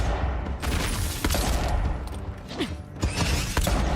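Pistol shots in the video game Avowed, loud and close, come as several sharp cracks among clattering mechanical clicks and a busy combat din.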